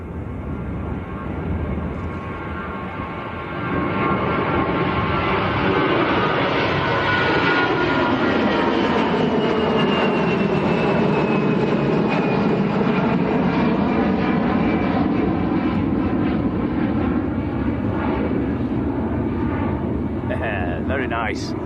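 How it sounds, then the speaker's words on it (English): An Airbus A320 airliner passing at Lanzarote Arrecife airport, a loud sustained jet roar swelling and sweeping past over about twenty seconds, with a rising then falling engine whine. "Airbus A320"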